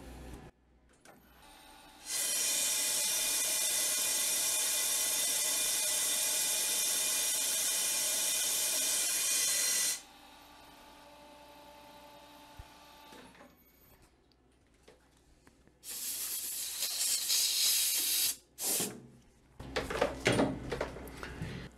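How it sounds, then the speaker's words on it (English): Compressed air blasting through a metal lathe spindle and workpiece, a loud steady hiss lasting about eight seconds, followed by quieter machine whirring and bursts of air and clatter toward the end. "running compressed air through the spindle and the part like I did here, it's so loud you do not hear the cut"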